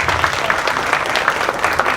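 A round of applause for school counselors rings out at a breakfast event, a short burst of many hands clapping together.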